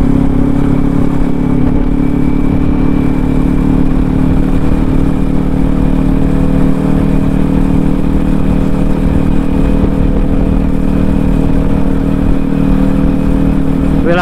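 A Kawasaki Ninja 400 engine under way on the road, a loud, steady mid-pitched drone held at an even speed throughout, with wind rush and no talk.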